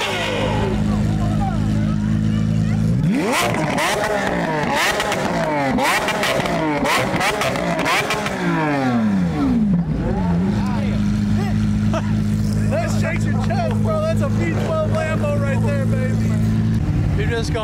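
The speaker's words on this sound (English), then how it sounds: "Just got supercars as far as the eye can see." Supercars in a long rally line roar past in Texas, engines revving and accelerating up close, one pass sweeping by before a steady loud engine drone continues; people talk over the noise.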